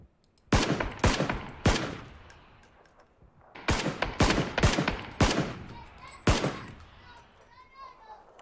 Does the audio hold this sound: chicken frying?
no